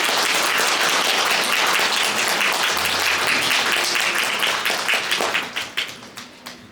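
Wedding guests applaud the bride and groom's bow, a full dense round of clapping that stays strong for several seconds, then thins into scattered individual claps before fading out.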